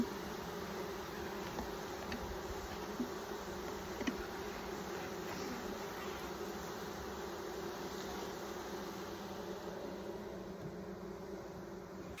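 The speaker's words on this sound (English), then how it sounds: "I'm gonna place an extra super over the top to protect the hive while they make their way out." Honey bees from a package being installed into a hive, a dense steady buzz of many insects heard close and continuous throughout.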